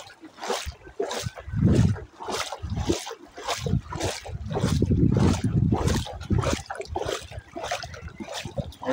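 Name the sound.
strong flood water current flowing on road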